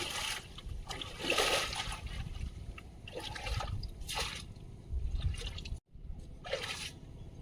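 Water drains out of a flooded rice paddy through a cut in the bank, rushing and splashing in uneven surges with brief drips, close by and moderately loud.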